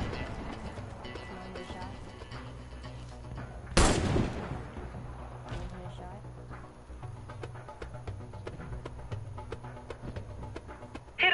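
A single loud, sharp sniper rifle shot at targets in a video game firing range, cracking out mid-clip above a steady low background of game ambience and music, with a faint second report near the end.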